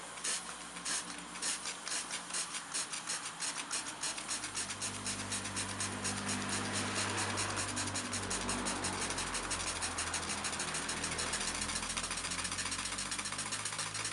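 A small steam engine runs as its cylinder warms up, with the drain cocks open venting hot water and steam. It gives a steady, rapid mechanical chuffing and knocking with an underlying hum, continuous and close.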